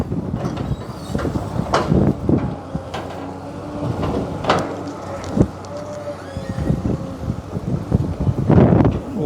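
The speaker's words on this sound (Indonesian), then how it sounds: "Angin kenceng banget." Strong wind buffets the microphone near a bridge where an excavator bucket dredges mud and debris, rumbling and gusting loudly throughout with scattered knocks and clatter.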